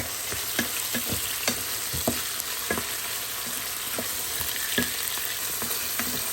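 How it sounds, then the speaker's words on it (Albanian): Onions and meat frying in hot oil make a steady, close sizzle punctuated by regular clicks and taps of a stirring utensil against the pan, with no voices. "Vaj është nxehur edhe i kemi qep mishin karadisin."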